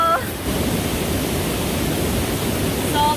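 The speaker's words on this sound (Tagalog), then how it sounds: "Sorry, yung agos pala ng tubig," Steady rushing of a flowing stream after rain, a broad continuous wash of water close by that fills the whole stretch at an even level, with a brief voice at the very start and again near the end.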